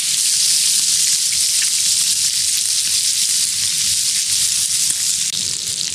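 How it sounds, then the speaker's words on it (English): Bacon sizzles and spits in a pan over a campfire during cold, windy, rainy tent camping, a dense, steady crackling hiss that stays loud and close for the whole stretch with no talk. "Listen to that bacon sizzle."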